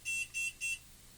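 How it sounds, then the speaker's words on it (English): An EMF meter alarm gives three short, evenly spaced high-pitched beeps, fairly close and clear over a quiet background. "Set that alarm off again."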